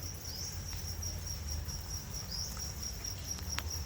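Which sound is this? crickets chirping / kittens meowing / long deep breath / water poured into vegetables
crickets chirping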